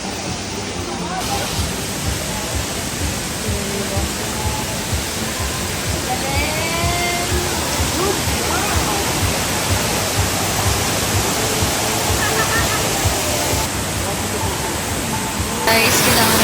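Broadband rushing roar of a waterfall on Siquijor, steady and loud throughout, with people talking over it.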